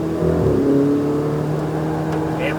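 A Ferrari 488 GTB engine drones steadily under load on a racetrack, its tone rising slightly as the car accelerates, heard from inside the cabin.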